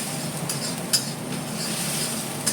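Navratna korma masala fries in a pan with a dense, continuous hiss. A spoon clinks against the pan twice as it stirs, heard close with no talking.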